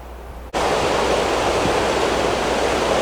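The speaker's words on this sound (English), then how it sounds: "Nice little creek here. The sounds of flowing water." A steady rush of flowing creek water at Babcock State Park starts abruptly and continues loud and unbroken, close by.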